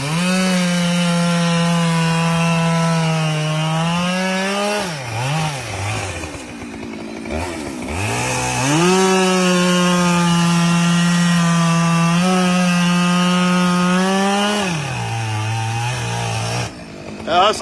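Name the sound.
Husqvarna chainsaw bucking a hickory tree top log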